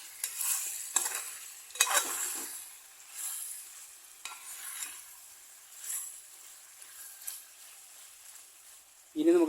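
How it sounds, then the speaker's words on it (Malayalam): Pork being stirred into a spice paste in a pan, with soft scraping stirs and a light sizzle in short bursts, fairly close, no talking. "ശേഷം നന്നായിട്ട് നമ്മുടെ ഈ അരപ്പിനകത്ത് നന്നായിട്ട് ഒന്ന് മിക്സാക്കി കൊടുക്കാം"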